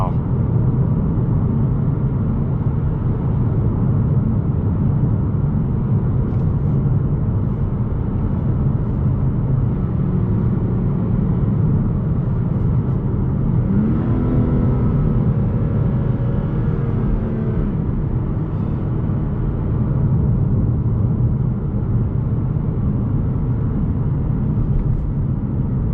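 A 2019 BMW M2 Competition with a manual gearbox pulls hard in third gear, its engine holding a loud, steady drone heard from the cabin. The pitch climbs briefly partway through.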